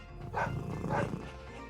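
A puppy gives two short barks about half a second apart, fairly close, with a low rumble of background noise underneath.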